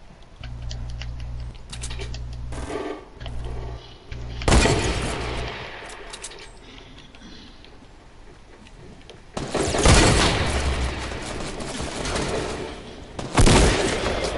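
Gunfire in the video game Fortnite, with several loud bursts of shots standing out over a low rumbling game background, spread unevenly across the stretch with quieter gaps between them.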